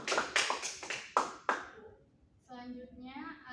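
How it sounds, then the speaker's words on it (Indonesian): A school class claps hands in five sharp, evenly spaced claps that fade quickly, followed by a person speaking. "Tepuk tangan dulu buat Nisa."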